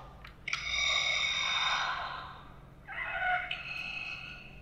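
Two long, hissing mechanical breaths from a Darth Vader Black Series helmet's breathing effect, the first lasting well over a second, then a shorter second one after a brief pause.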